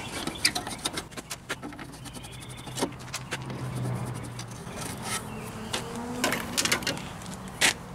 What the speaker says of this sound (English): take the screws out of your lens